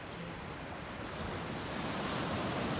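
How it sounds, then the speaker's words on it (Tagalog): Sea waves washing along a seashore lined with fishing boats, a steady, fairly soft rush of surf with light wind and no voices. "dito po tayo sa sa tabing dagat"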